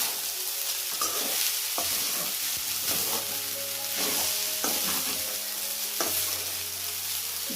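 Paneer fried rice sizzles hard in a pan over a high flame, a constant bright hiss broken by repeated clanking scrapes and metallic tonal rings as a spatula stirs and tosses it, with no one talking.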